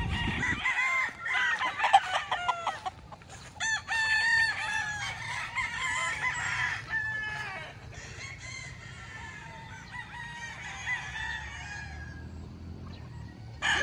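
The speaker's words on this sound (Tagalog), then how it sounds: "Ito yung mga mas maliit na manok kasi hindi pwedeng makisali sila doon sa mga broodcock dahil mabubulabog daw sila" Small young chickens kept apart from the broodcocks cluck continuously while roosters crow repeatedly nearby, loud at first and then settling into steady chatter.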